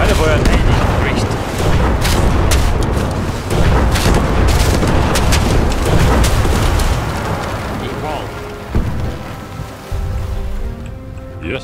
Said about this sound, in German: Wir haben die stationäre Kanone zurückerobert. Komm, weiterfeuern.